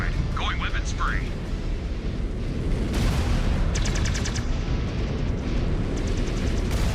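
Mech weapons fire in the MechWarrior Clans DLC for Warhammer 3, a dense, steady barrage of booming gunfire and explosions with sharp bursts layered over constant rumble, and a voice talking over the battle.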